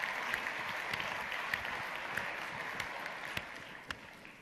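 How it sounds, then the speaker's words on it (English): Audience applause at a business keynote honoring partners of the year, a steady, fairly distant wash of clapping from a large hall with a few sharper individual claps standing out. "Let's give them yet again a warm round of applause."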